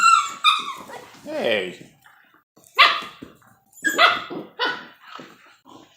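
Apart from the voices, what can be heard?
whippet dogs barking and playing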